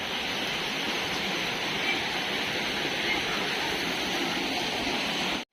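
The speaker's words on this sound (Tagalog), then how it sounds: "tatawid po tayo ng ilog" A river flowing during a crossing on foot, a steady broad rush of water that stays loud and constant throughout with no talk, cutting off abruptly at the very end.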